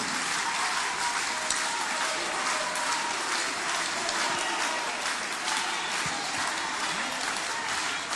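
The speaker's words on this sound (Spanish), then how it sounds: "Palmas apristas, compañeros." Steady, dense applause from a crowd of APRA party members at a political gathering, a bright, continuous crackle of clapping that holds at an even level throughout.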